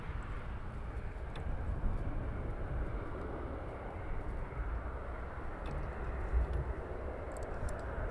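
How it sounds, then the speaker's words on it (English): Airbus A400M turboprop transport flying downwind in the circuit at RAF Brize Norton, a steady distant engine drone holding at an even level throughout, with no voices. "The A400 now is on downwind."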